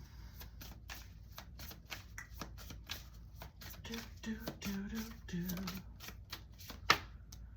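Tarot cards being shuffled, a run of quick crisp riffling and tapping bursts, close by, with someone speaking quietly over part of it.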